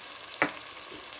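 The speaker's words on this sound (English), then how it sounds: "Let the ginger and garlic paste saute for around 30 seconds." Ginger and garlic paste sautés in a hot pan with onions, giving a steady soft sizzle and one brief sharp stirring clink near the start.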